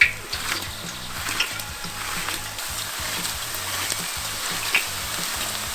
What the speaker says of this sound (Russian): Когда масло разогрелось, берем пару бананов и натираем их прямо в казан.